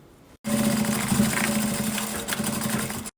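A sewing machine stitches fabric for a small pin-up gift box, its loud, steady motor whir starting abruptly and running evenly before cutting off, with no talk.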